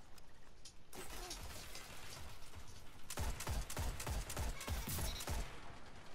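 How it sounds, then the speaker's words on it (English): Gunfire in Destiny 2, a steady roar of game noise that breaks into a rapid, close burst of repeated shots in the second half, with no talk. "Some nice long range shooting."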